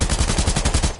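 Fortnite gunfire rattles out in a rapid, loud burst of about ten evenly spaced close shots, with no talk.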